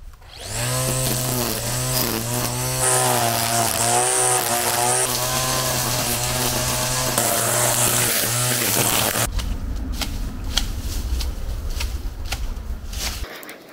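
A petrol-engined jet washer cleans an aluminium antenna part, its engine droning loud and steady with a harmonic whine, then switching to harsher spraying hiss for the last few seconds before stopping.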